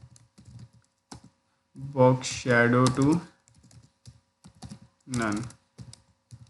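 Quick, light clicks of fingers typing code on a computer keyboard, patter in short bursts at close range, with someone talking over some of the keystrokes.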